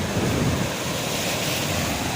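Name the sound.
rough sea waves at Kasimedu fishing harbour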